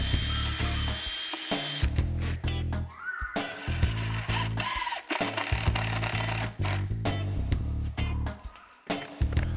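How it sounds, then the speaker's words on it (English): Power drilling in bursts with a countersink bit, a motor whirring up and biting into particle board several times over close range, loud with brief pauses between runs. "I pre-drill with the powerhead countersink bit and then drill a longer pilot hole"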